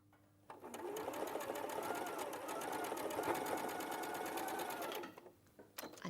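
A sewing machine runs steadily for about four and a half seconds in a live studio setting, stitching over pins with a fast, even whirring rhythm, then stops. A short clatter follows at the end.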